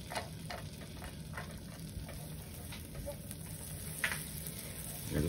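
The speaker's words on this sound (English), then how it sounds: "You're just going to caramelize that garlic in the butter." Garlic caramelizing in melted butter in a pan, giving a steady, soft, close sizzle and crackle throughout with occasional light stirring ticks.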